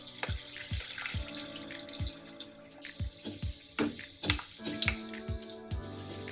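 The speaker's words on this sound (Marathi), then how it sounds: "आता हे रोल आपल्याला तेलामध्ये तळून घ्यायचे" Bajra-fenugreek stuffed rolls deep-fry in hot oil. Close, bubbly pops and crackles repeat at an uneven rhythm over a continuous sizzle, with no talking.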